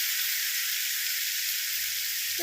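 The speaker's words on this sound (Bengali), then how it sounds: "আলুটাকে এর সঙ্গে কষিয়ে নেব।" Diced potatoes sautéing in a pan with spices and Kashmiri chili, for a fish-head and cabbage dish: a close, even hiss of frying throughout, with a soft low thump near the end.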